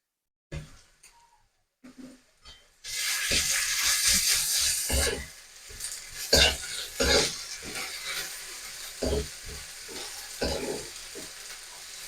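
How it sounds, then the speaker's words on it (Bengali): Ginger and green chilli paste stirred into frying onions in a pan while making a pea ghugni, starting with a few light clinks, then a sudden strong sizzle with repeated spoon scrapes and knocks against the pan. "আদা কাঁচা লঙ্কাটা পেঁয়াজের সাথে ভালো করে মিশিয়ে নেব।"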